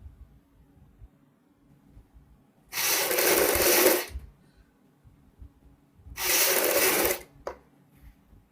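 A sewing machine stitches lace onto a kameez neckline in two separate bursts of rapid whirring about a second long each, with quiet handling noises between them and a short final blip.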